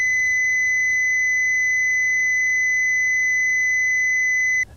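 A continuous 2 kHz test tone sounds at an even level for nearly five seconds before stopping abruptly.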